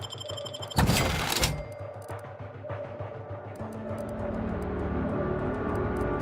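A shotgun fires in the video game The Outer Worlds 2: one loud, sharp blast followed by scattered thumps and clatter, then a steady low game ambience.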